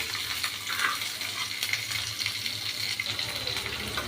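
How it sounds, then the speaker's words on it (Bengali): Chopped onion frying in a pan on a gas stove, with the heat raised from medium, giving a steady, fairly soft sizzle and crackle throughout with no talking. "এবার পেঁয়াজটা দিয়ে দিলাম গ্যাসটাকে মাঝারি রেখেছিলাম হ্যাঁ এবার একটু বাড়িয়ে দিলাম এটাকে এবার একটু ভাজাভুজি করব"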